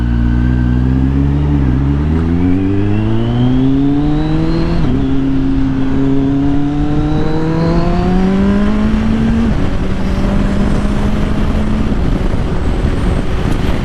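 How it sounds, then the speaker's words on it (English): A Kawasaki Z900 motorcycle with a Leo Vinci LV10 slip-on exhaust revs loudly and continuously, its engine note climbing through gears with brief dips at each shift, close and alone. "if you have a Leo Vinci LV10 slip-on and if you try to do a full system or do catback, the bike is going to be extremely loud"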